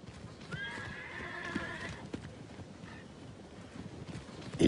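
Wild mustang horses neigh in a herd, several clear whinnies rising over steady hoof clip-clop and a light outdoor rumble, with a louder thump right at the end.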